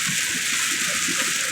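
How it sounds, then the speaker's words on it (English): Steady hissing downpour from a Florida thunderstorm pounds a moving car, loud and unbroken, with faint low rumbling beneath and no voices. "So apparently I'm driving into a thunderstorm again."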